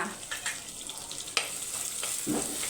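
Shallots and curry leaves sizzle and fry in hot oil for a chicken curry, a steady crackling hiss broken by a few stirring scrapes, with no talking.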